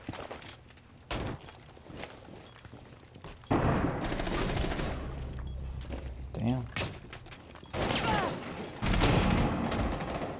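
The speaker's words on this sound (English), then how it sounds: "Who shot her?" Bursts of automatic gunfire crackle in an online shooter game, rapid machine-gun volleys alternating with quieter gaps, while players talk over the shots.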